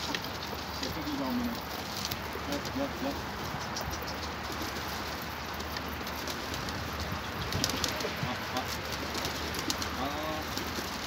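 A sick pigeon coos in soft, intermittent low calls close by, against a hissy background, with people talking around it.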